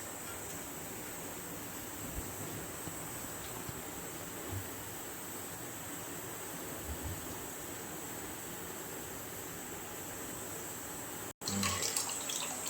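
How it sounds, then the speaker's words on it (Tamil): Normal tap water poured over paneer curds while washing them, a faint, steady stream of running water throughout that briefly cuts out and then returns a little louder near the end. "இப்போ நம்ம நார்மல் தண்ணி வச்சு இங்கிட்டு வாஷ் பண்ணிக்கணும்"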